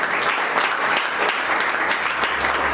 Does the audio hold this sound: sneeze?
no